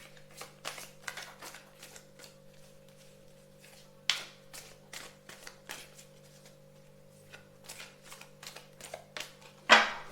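A deck of tarot or oracle cards is shuffled by hand at close range, with rapid papery riffles and slaps coming in irregular bursts over a quiet hum and ending with a sharper snap.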